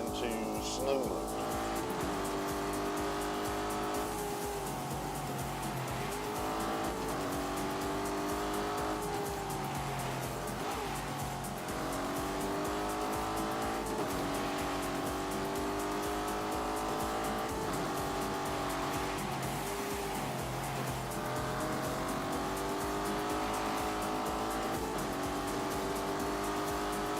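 A Lamborghini Urus SUV engine in The Grand Tour video game, set to snow mode, drones and revs in steady harmonic waves with tyre squeal, continuous and close for the whole stretch.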